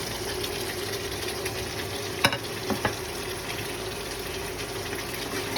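Salmon pieces hit tomatoes already cooking down in a pan, giving a steady, close sizzle with a few soft clacks from the utensil partway through.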